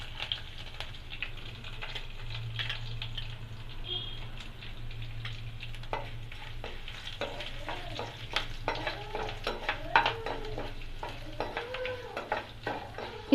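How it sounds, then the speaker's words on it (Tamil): Ginger fries lightly in oil with dal and curry leaves during rava kichadi preparation, making a soft, low sizzle with scattered utensil taps and clinks that grow busier toward the end, and no talking. "இஞ்சி லைட்டாக ஃப்ரை பண்ணிக்கலாம்."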